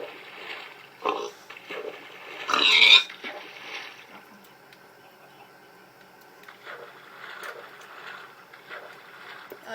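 A pig in a Minecraft-style survival game gives a short grunt, loudest near the middle among quiet game ambience, with a few softer bursts around it.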